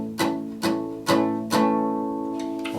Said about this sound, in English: I play that with a muted palm strum.